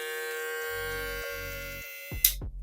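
A Pop Barber P620 electric shaver runs with a steady close motor hum and buzz, switched off briefly and then clicked back on near the end.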